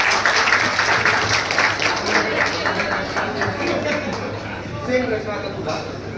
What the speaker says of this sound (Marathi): टाळ्या झाल्या पाहिजेत अर्जुनसाठी.